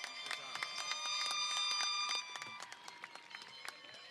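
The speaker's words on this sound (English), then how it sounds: "let's give another big round of applause to Alicia for her wonderful performance" Audience applause fills a high school graduation ceremony, dense steady clapping that holds strong for about two seconds, then thins into scattered claps as it tapers off, somewhat distant.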